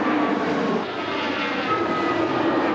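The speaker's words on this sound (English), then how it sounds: "planes come and go once more" Airplanes operating on a runway near a river crash recovery site, heard as a steady, loud aircraft engine roar with a broad, continuous hum that swells slightly and holds throughout, with no voices.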